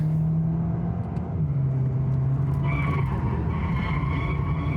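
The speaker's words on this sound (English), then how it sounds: "here was a really rather big understeer with this car" A 2025 Skoda Octavia RS pushes through a corner with big understeer, its tyres giving a loud sustained squeal over the steady engine drone, the pitch shifting as the car scrubs wide.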